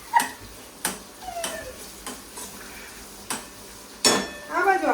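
A metal spoon clinks and scrapes against a cooking pot in sharp, irregular strikes, with soft stirring and a faint sizzle between them, and a voice talks briefly in the background.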